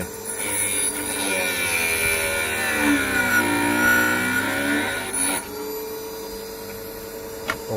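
HERO EMG-01 end mill sharpener grinding an end mill bit on an old grinding stone, a steady whirring motor with a rising and falling harmonic whine as the bit is worked, heard close and alone.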